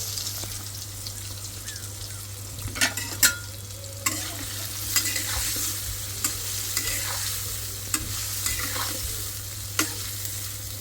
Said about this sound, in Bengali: সবগুলো একসাথে ভেজে নেব